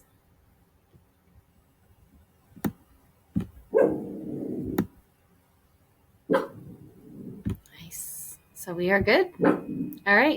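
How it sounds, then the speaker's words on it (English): A dog barks a few times in the background, sharp and brief, while someone talks nearby between the barks. "If you can hear her barking, that's my dog."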